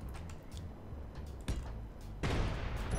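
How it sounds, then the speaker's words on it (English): Sharp fireworks bangs from the street outside, two sudden loud cracks about a second apart, the second opening into a sustained crackling burst, heard over a steady background of game sound. "That may have been fireworks in my street"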